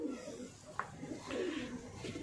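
Soft, low Jaipur pigeon coos close by, a couple of throaty murmuring calls with a brief sharper sound between them.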